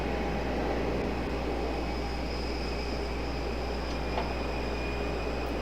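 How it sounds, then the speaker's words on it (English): An Airbus A220 airliner on a Boston flight at Raleigh Durham International at night: a continuous, even engine roar with a steady whine, nearby and unbroken, with no talking. "A220. I think this is your Boston flight."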